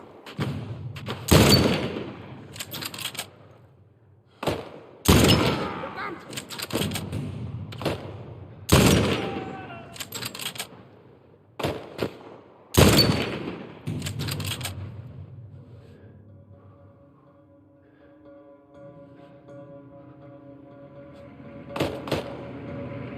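Gunfire in The Last of Us on PS5: sharp, loud shots crack out in irregular bursts with short gaps, then give way to a quieter, humming ambience with a couple of softer late hits.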